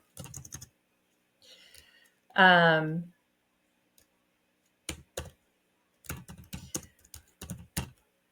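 Short bursts of typing on a computer keyboard, sparse key clicks spread across the stretch with pauses between, alongside a brief voice.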